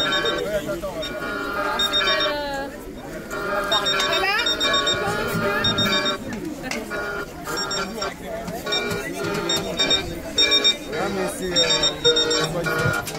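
Alarm clocks ring amid a Yellow Vests street protest in Angers, mixed with drums, music and crowd noise, with people talking throughout.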